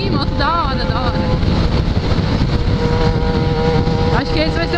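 A Suzuki SRAD 750 motorcycle engine roars steadily and close by, loud and continuous with wind noise, as a voice speaks over it.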